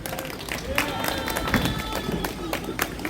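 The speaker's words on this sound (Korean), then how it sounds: "박수 부탁드립니다" Scattered clapping from a crowd at an outdoor rally in front of the People Power Party headquarters, mixed with murmuring voices and crowd noise for a few seconds.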